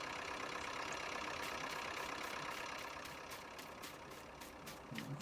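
A 1958 farm tractor on a grass-ploughing day idles with a steady mid-to-low engine drone, moderately close and unbroken, with no voices.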